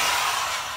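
A power drill unscrewing a screw whirs steadily for under a second, a close, continuous motorized buzz with no voices.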